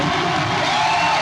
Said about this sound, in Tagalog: Grabe sigawan yung mga tao.